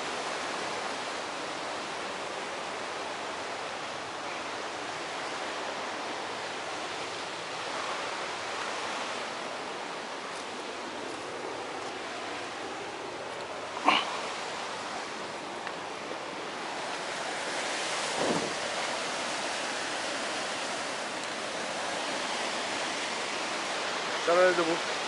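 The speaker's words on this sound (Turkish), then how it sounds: "Yani bu şelalenin ol tarafında kalıyor." A waterfall rushes in a steady broad hiss that fills the whole stretch, with a few faint knocks and a voice speaking briefly beneath it.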